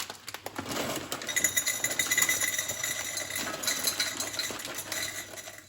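Dry pasta poured into a container on a kitchen scale, a close, steady rattling patter of hard pieces tumbling and clattering against the container for several seconds.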